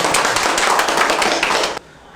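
An audience claps together at a lecture, a dense, steady burst of many hands that fills the room for under two seconds and then stops abruptly.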